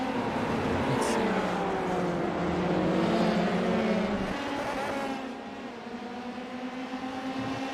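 Dallara F3 race cars racing at Barcelona in a video game: a steady high engine whine from several cars, pitch sweeping up and down through gear changes, fading slightly near the end, with a commentator talking over it.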